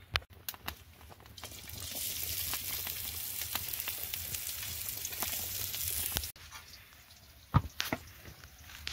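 Okra and potato curry frying in a kadai, a steady sizzle with scattered stirring and clinks throughout, brief breaks and sharp knocks near the end, no talk.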